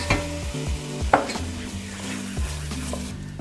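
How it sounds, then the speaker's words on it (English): A spoon stirs canned and whole tomatoes into a pan of tomato risotto, with soft scraping and clinks over a low sizzle across a few seconds, nearby and with no one speaking. "We're gonna stir it all up, make sure it's all nice and combined."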